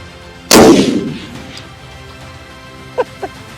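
A single loud hunting rifle shot on free-range land in KwaZulu-Natal, South Africa, a sharp near crack with a booming tail rolling away over open country, followed by a couple of faint distant knocks.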